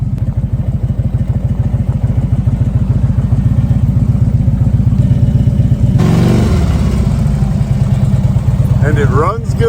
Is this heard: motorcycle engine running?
yes